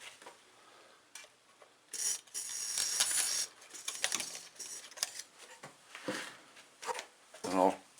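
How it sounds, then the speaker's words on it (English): A Proforce 3125 generator engine, dry and long unused with a little WD-40 in it, cranked over several times by hand in bursts of mechanical whirring and clicking, close up, with someone talking between pulls. "I'll crank this thing over a couple times just to and see if the rings are weak on it"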